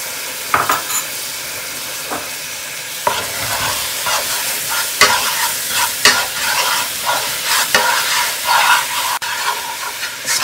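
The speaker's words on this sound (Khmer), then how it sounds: "យកស្ករយកមកឆឹងជាមួយនឹង ទឹកក្រូចឆ្មា" Sugar and lime juice being stirred in a hot pan for Khmer dried spicy pineapple, making a steady scraping, sizzling stir with repeated sharper strokes across the whole stretch and no talking.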